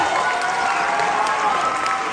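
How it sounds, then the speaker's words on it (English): A crowd claps in dense, sustained applause at a hypnosis show at Illinois Wesleyan University, loud and steady throughout the short stretch. "Give him a round of applause."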